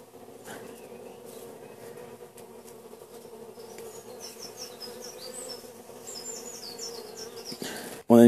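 Honeybees buzz steadily around a beehive, a dense continuous hum from many insects close by, with higher whining passes of individual bees drifting in and out, ending in a sudden loud burst.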